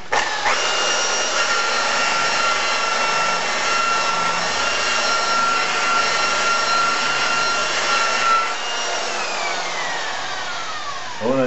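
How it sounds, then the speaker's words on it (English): A buffer runs steadily, polishing the paint on a 2001 Buick Century with cutting compound: a continuous whirring motor drone with a steady whine, loud and close, easing off slightly near the end. "I'm trying to cut that edge with this cutting compound. So I'm buffing into my blend right now."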